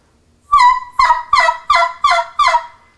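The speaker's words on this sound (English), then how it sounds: "So regular yelp just be." Regular yelp on a tube turkey call: six evenly spaced, loud, close nasal yelping notes in a quick rising series, played alone with no talking.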